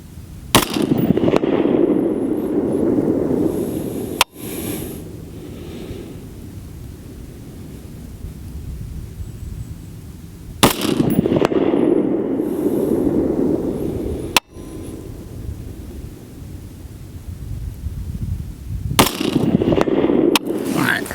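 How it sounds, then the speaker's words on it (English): Carbine rifle shots fired at a yellow target 200 yards away on an outdoor range, three loud sharp reports spaced several seconds apart, each followed by a broad rumbling echo. "And now I'm going to shoot the carbine zeroed for 200 yards."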